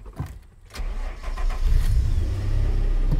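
A car engine, switched on during an OBD2 scanner demonstration, is quiet at first, then cranks and catches about a second in before settling into a steady, close, low idle hum with no talking.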